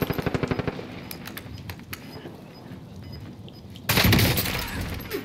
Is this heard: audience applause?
no